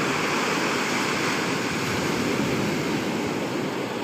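Sea waves wash onto a shore in the morning, a loud, dense, unbroken roar of surf and hiss filling the whole scene with no voices.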